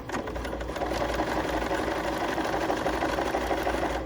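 A BERNINA sewing machine runs steadily, stitching and back stitching a seam, giving a continuous rapid mechanical whir with a fast regular pulse, close and alone.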